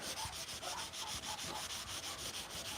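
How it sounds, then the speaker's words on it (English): Sandpaper rubbed back and forth over a wooden piece, a close, loud, rhythmic scratchy rasp repeating in quick even strokes with no talking. "You can hear the difference of the sandpaper on the piece itself."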